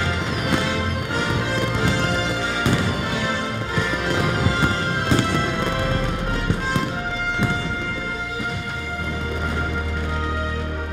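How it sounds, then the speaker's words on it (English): Fourth of July fireworks over New York Harbor near the Statue of Liberty, heard as a dense, continuous barrage of bangs, crackles and thumps layered over a steady roar, with no pauses. "you can't have 4th of July without fireworks"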